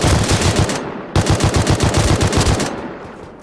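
Rapid bursts of AK rifle fire in the survival game Rust, two loud full-auto volleys with a brief gap between them, the second trailing off.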